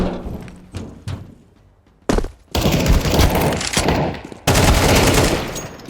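A gun fires in Counter-Strike 2, with separate close shots at first, then heavy bursts of automatic fire and hard thuds, loud and punchy against the game's background noise.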